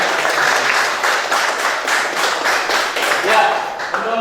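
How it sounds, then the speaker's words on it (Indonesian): A classroom of students claps together, a dense burst of applause that carries on steadily before starting to thin out near the end. "Kita tepuk tangan untuk pembelajaran yang luar biasa"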